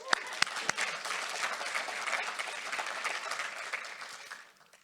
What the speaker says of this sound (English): We always clap for 20 million,